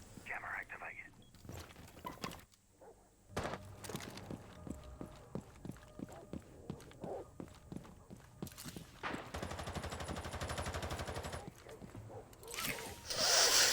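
Gunfire in a competitive video game match: rapid rhythmic bursts of automatic fire, some single shots and a sustained volley, mid-distance, mixed with game effects and faint voices.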